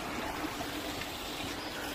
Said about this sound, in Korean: 시냇물이 줄줄줄 흐르고 있습니다